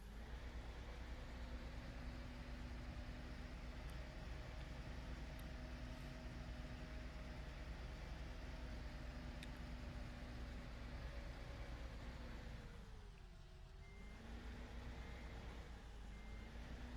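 A Fendt tractor in Farming Simulator 2015 drones with a steady engine hum and a faint repeating tone, holding level for the whole stretch, with a brief dip and pitch sweep near the end.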